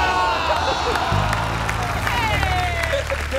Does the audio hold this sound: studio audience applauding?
yes